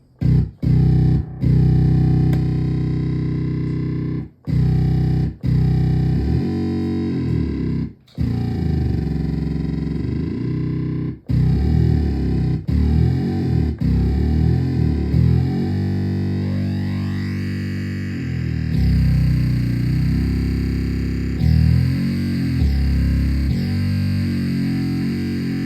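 Donner B1 synthesizer running a sequence through heavy Drive Max distortion, thick buzzing tones with pitch-shifting notes and sweeps, broken by a few brief cut-outs, loud and alone.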